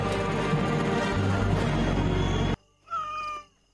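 A black cat in the animated film Coraline gives a short, clear meow, heard close and alone after a loud, dense stretch of film sound cuts off into near silence.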